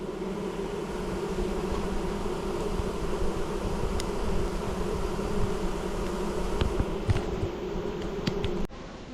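Honeybees buzz in a steady, dense drone around an opened hive at an apiary in October, the hum close and continuous throughout with a few brief sharper sounds near the end.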